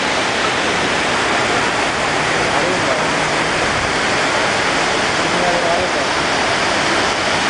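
Kapuzbaşı waterfall pours in a loud, dense, unbroken roar of rushing water heard up close, with no break and no clear voices above it.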